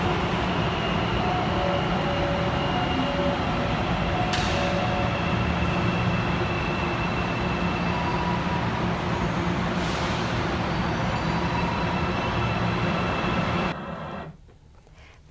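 A São Paulo metro train runs with a loud, steady rumble and rail roar, carrying on for most of the stretch before dropping off sharply near the end.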